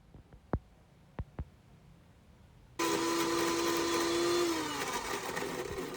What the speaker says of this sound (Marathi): या नाग्यांचा मिक्सरला लावून खिमा करून घ्यायचा आहे